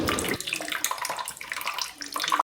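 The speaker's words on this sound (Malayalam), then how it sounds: "ആവശ്യത്തിന് പുളിവെള്ളം ഒഴിച്ചു കൊടുക്കുന്നുണ്ട്" Tamarind water pours close up into a spice masala in a continuous splashy stream, briefly easing before pouring again, then stopping abruptly.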